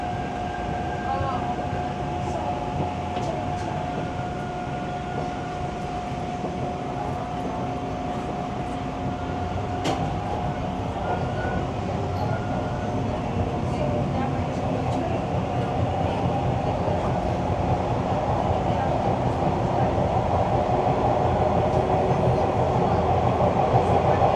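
Toronto subway Line 1 train riding between stations, a continuous loud rumble and rattle from inside the car with a faint whine, steady throughout and building slightly toward the end.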